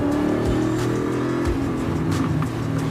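A full carbon fiber Chevrolet C10 truck with a sequential gearbox drives by, a loud continuous engine roar with a rough, throbbing low rumble and no talking.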